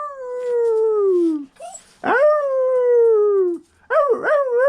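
A dog gives long, drawn-out howls, two sustained wavering cries close to the listener, followed by a shorter yelping howl, with a brief human exclamation heard.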